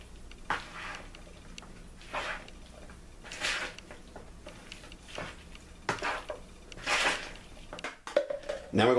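A spoon stirring seasonings into tuna macaroni salad in a bowl, making repeated scraping and clinking strokes at an uneven rhythm, close and moderately loud, then a few sharper knocks at the end.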